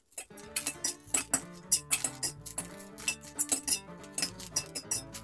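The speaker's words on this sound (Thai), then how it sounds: "ขั้นตอนนี้เราผัดเห็ดหอมให้แตกกลิ่นหอมเลยครับ" Sliced, softened shiitake mushrooms stir-fried in oil in a wok, with a quick, uneven run of bright metallic clinks and scrapes from the spatula striking the pan, close and clear.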